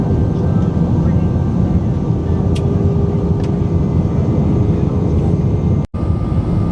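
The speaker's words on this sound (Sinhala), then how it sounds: "ලෑන්ඩ් කරන්න තමයි හදන්නේ මේගොල්ලෝ" Thai Airways airliner cabin during descent to land on a Hanoi to Bangkok flight, a loud steady engine and air roar filling the cabin, with faint distant chimes and a brief dropout near the end.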